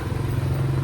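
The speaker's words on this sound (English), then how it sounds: "I love that we walk down the street and there's all these motorcycles" Motorcycles rumble past on a busy street in Japantown, Vietnam, a close, continuous low engine drone with no voices.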